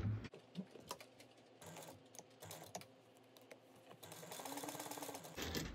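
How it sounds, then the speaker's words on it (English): Sewing machine stitching exterior fabric pieces of a bag together at a 3/8 inch seam, a quiet rapid mechanical whir running in stretches with brief stops, close and alone. "So you're going to sew the exterior pieces together at a 3/8 inch seam allowance."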